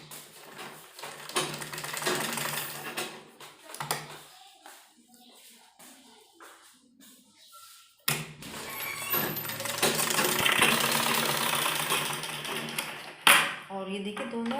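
A sewing machine runs in fast clattering bursts as it stitches the belt strip for a baby frock. Pauses break the stitching, and a voice talks at points.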